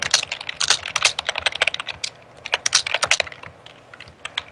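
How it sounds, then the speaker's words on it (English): Rapid typing on a computer keyboard, a dense run of sharp clicking keystrokes in uneven bursts with brief pauses, close and fairly loud. "I can hear you typing."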